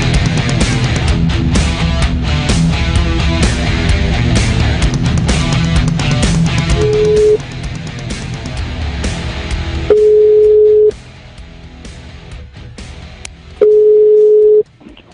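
An outgoing telephone call to an Italian office is heard: dense music fills the first ten seconds, then steady ringback tones sound in long, evenly spaced bursts over a quiet line.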